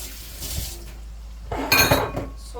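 Washed rice, soaked in salted water, tipped into a pot for a chicken pilaf: a few faint clinks, then a brief louder wet rush and clatter as the grains go in, with no talking.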